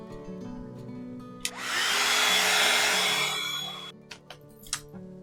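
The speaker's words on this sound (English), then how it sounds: "I'm just going to give that one quick blast with the heat gun." A heat gun blasts steadily for about two and a half seconds, a loud, even whooshing roar drying a craft piece, framed by a few small clicks and taps before and after.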